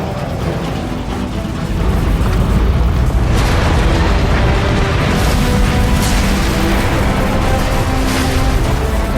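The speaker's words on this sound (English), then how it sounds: "The neutron gun is activating." A neutron gun powers up in Transformers: Fall of Cybertron, a loud, dense sci-fi rumble that swells after the first second and holds steady with bursts and booming crackles, no voices.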